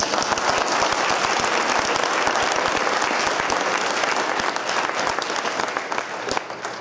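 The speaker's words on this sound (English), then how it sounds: "I just want to offer a round of applause for all involved" Applause from a conference audience rolls steadily through the room, dense many-handed clapping with sharp individual claps standing out, tapering slightly near the end.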